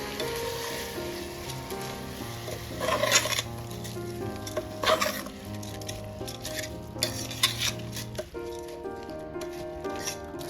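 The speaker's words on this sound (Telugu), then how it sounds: "ఒకసారి తిప్పుకోండి రైస్ వేసాక." Rice being stirred in a pot while coconut milk biryani cooks, giving a steady sizzle with scraping and stirring sounds beneath continuous tonal background music.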